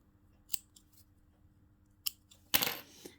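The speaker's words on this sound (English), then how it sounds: "you can trim a little bit this side, a little bit this side" Scissors trimming the fabric of a Taekwondo belt, a few crisp close snips spaced apart, ending in a longer louder cut, with quiet between.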